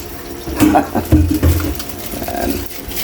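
Water is poured into a cooking pot to boil cleaned ingredients for bopis, giving a splashing, filling rush with a few louder surges over the first half; a voice briefly speaks.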